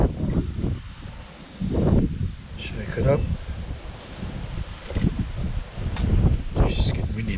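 Gusts of wind buffet outdoors at Slaty Creek during gold prospecting in surging bursts, rustling and roaring against the microphone, while a person speaks briefly.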